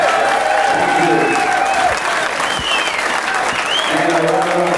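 Crowd applause for a U.S. Open 9-ball pool champion, a loud sustained burst of clapping in an arena, with an announcer's voice heard over it.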